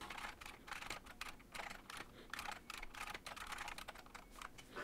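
Fairly quiet, rapid keystrokes tap out on a computer keyboard that feeds input to an FPGA-built Apple II clone. The clicks come in irregular bursts throughout, with no voices.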